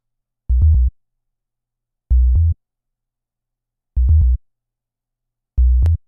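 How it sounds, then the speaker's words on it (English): Four short, deep synthesized bass notes in a slow repeating pattern, each a clean low tone separated by silence. "The bass basically sounds like this."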